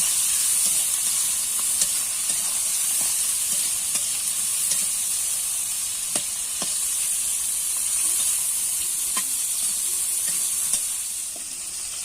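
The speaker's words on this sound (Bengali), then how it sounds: "লবণ আর হলুদ দিয়ে চিংড়ি মাছগুলো আমরা ভালোভাবে ভেজে নেব।" Steady, bright sizzling of shrimp frying in hot oil with salt and turmeric, with occasional light scrapes and taps of a spatula stirring the pan, close and continuous.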